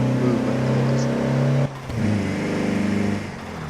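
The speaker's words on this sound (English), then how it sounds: "That's got like a gearbox, sort of gear stick movement noise." A van's engine hums steadily in Forza Horizon 4, breaks off briefly mid-way with a clunk like a manual gear change, then resumes its drone at a slightly different pitch.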